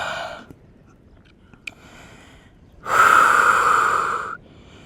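Heavy breathing after a Pilates workout, a couple of soft breaths and then one long, loud, close exhale that trails off.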